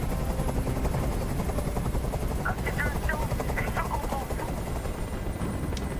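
A helicopter in the video game Detroit: Become Human makes a steady, loud rotor drone throughout, with brief scattered sharp sounds and voices talking over it.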